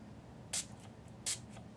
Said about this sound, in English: I'm going to spray it directly on my face